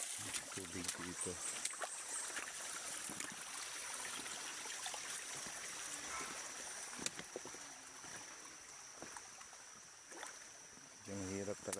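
Stream water flows over rocks after night rain, a faint, steady rushing hiss with short bursts of nearby voices talking.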